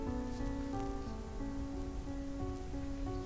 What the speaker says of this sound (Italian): La pioggia avvolse quel mondo